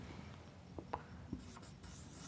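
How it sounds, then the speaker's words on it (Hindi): Faint chalk or marker strokes on a classroom board during a Hindi grammar lesson: a few short, soft scratches and taps spaced irregularly over a quiet, hissy room background. "मैं यहाँ पे लिखता हूँ भाववाचक संज्ञा।"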